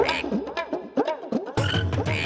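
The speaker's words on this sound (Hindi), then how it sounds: "वैसे इच्छा, ये मेंढकों के साथ नागिस्तान में क्या किया जाता है?" Frogs croak in a rapid, repeating chorus, loud and close, the calls overlapping in a steady rhythmic series with no voices present.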